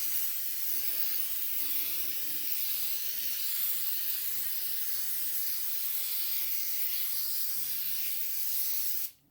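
K&N air filter oil sprayed onto a filter, a steady close hiss of aerosol spray that runs unbroken for about nine seconds before stopping.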